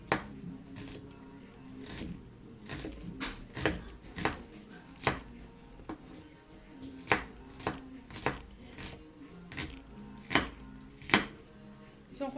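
A knife chops through chicken feet on a board in a series of sharp, irregular thuds and cracks, close and fairly loud, with short pauses between strokes while cooking a home dish.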